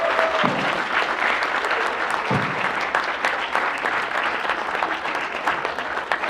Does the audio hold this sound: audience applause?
yes